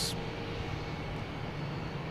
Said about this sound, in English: 787 coming in here